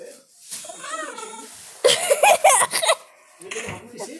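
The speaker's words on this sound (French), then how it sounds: "On va trouver le dernier chat, c'est sûr il est là le dernier chat." A cat meows in a video game, a series of loud drawn-out mewing cries in the middle, with a person talking in French before and after.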